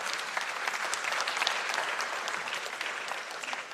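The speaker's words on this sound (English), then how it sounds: "give a round of applause to the communication team as well" Sustained applause from a conference audience at a Sahel governance forum, steady dense clapping throughout without a break, fairly close and even in level.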